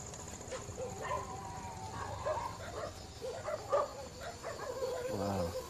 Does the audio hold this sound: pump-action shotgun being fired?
no